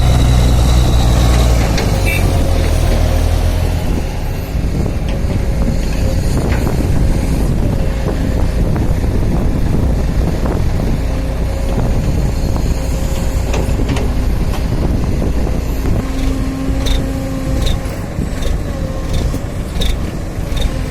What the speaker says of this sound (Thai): มาลองความแรงดูหน่อย กับเครื่องยนต์ 300 กว่าแรงม้าครับ